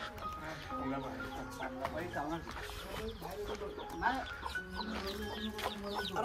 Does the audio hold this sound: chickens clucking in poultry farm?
yes